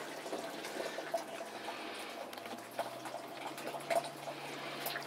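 Water trickling and splashing gently over spent grain while rinsing during home beer brewing, a continuous soft wash with small drips and splashes over a low background hum.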